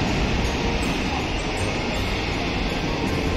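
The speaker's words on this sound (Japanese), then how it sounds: "貨物列車のように今通過する列車があるので" A freight train hauled by an EF210 electric locomotive roars through Akashi station without stopping, a loud, continuous rumble and rattle of wagons passing close by, with no talk over it.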